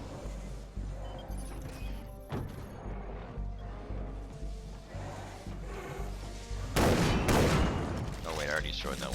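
Shotgun blasts in the first-person shooter Far Cry 3: Blood Dragon, heavy booming shots standing out over game music and effects, with a louder cluster of blasts toward the end; someone talks briefly.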